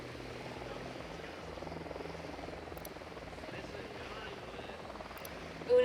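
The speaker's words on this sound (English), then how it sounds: "Drone is airborne." Drone hovering in Ghost Recon Wildlands, a steady whirring rotor drone that runs continuously at moderate level throughout, with faint game ambience and brief talk in the background.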